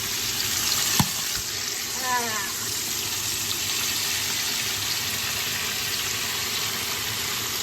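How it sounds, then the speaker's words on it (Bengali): Small sardines deep-fried in plenty of oil give a steady, close sizzle, with a sharp clink near the start and a few brief squeaky tones partway through. "এগুলো একদম ডোবো তেলে মস্ত করে ফ্রাই করে নিব।"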